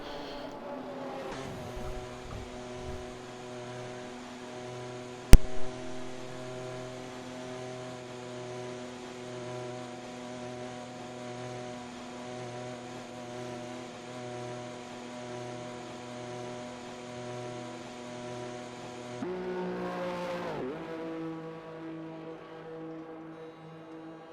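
A race car in a Silverstone sim racing game drones past with a steady, harmonic engine tone. It rises as the car approaches, holds, then sweeps away with a sharp pitch shift near the end, after one brief loud click early on.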